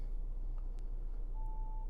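A 2020 Subaru Outback's radio gives one short, clean electronic beep as a station is saved, heard faintly against the low hum of the cabin.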